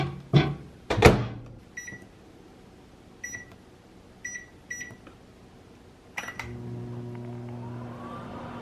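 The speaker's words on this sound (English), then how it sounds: "I can just throw it in the microwave? So I'm gonna go ahead and cook this" A microwave oven runs while cooking a sweet potato, with a few loud clunks of the door and buttons, then short bright beeps spaced through the run and a steady low hum at the end, no voices.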